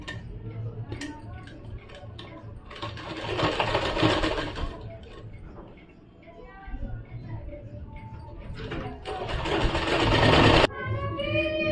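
A sewing machine stitches a kameez shoulder seam in two loud, close bursts of rapid running, separated by quieter ticking handwheel clicks, with a voice speaking at times between them.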